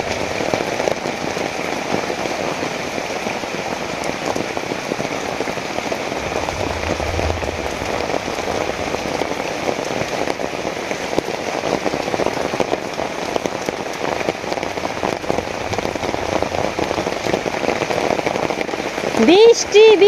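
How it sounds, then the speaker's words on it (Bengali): Heavy rain pours steadily and loudly onto surfaces, a dense, unbroken hiss of drops lasting throughout, with a brief clatter right at the end. "বৃষ্টি বৃষ্টি খালি বৃষ্টি আর বৃষ্টি"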